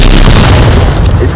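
A gunshot rings out in the VR shooter game Onward as one loud, heavy boom that fills the whole moment, close and booming.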